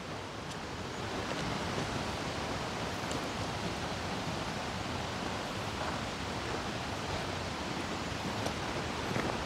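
Steady broadband rushing of water, like a river flowing nearby, continuous and even throughout with no voices.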